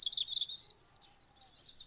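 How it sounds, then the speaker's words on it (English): A rusty-cheeked scimitar babbler on a forest floor gives clear, high whistled phrases, two sweeping bursts separated by a short pause, close and alone against a quiet background. "This rusty-cheeked scimitar babbler appeared to be nesting nearby"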